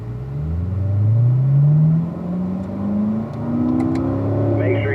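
A car on a race track accelerates hard, its engine note rising steadily, dropping at a gear change and then climbing again through the upshift, loud and close throughout.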